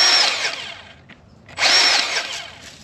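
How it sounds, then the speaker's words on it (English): An electric grease gun greasing U-joints gives two short, loud whirring bursts, each about a second long, with a quiet pause between them. "which is hard to do with an electric grease gun"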